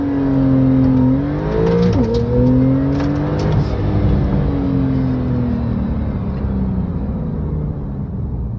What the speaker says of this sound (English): Put your foot on the brake, floor the gas, and let go of the brake.